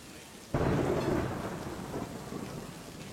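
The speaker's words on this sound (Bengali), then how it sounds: "যা বৃষ্টি শুরু হয়েছে সহজে থামবে বলে মনে হচ্ছে না" A sudden crack of thunder bursts in and rolls away over steady, heavy rain.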